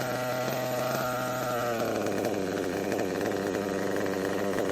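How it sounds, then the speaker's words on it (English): A small nitro engine idles steadily while being tuned, leaned out slightly so the idle rises; a continuous buzzing drone with a slight shift in tone partway through, loud and close, no talking. "I'm getting the idle picked up just a little bit from leaning it out"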